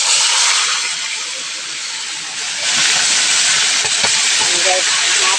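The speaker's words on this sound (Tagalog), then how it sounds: "Prito na natin ang ating manok." Loud, constant hissing sizzle of a whole chicken frying in hot oil, close up, with occasional crackles and a faint voice underneath.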